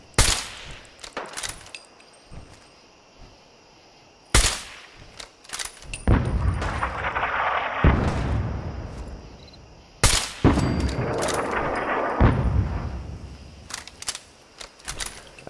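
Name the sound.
artillery fire in the video game Fallout 4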